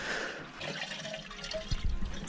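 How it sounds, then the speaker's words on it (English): Water runs into a macerator toilet after the supply is turned on, making a steady hissing, gurgling rush with some low rumbling splashes toward the end. It is heard close up and alone. "So we just turned the water on there."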